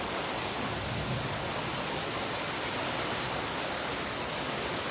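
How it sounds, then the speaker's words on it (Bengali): Heavy, storm-like rain pouring down as a dense, even, continuous hiss that does not change throughout, with no voices. "আজকেও অনেক বৃষ্টি হচ্ছে"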